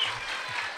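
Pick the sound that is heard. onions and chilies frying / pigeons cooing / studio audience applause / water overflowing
studio audience applause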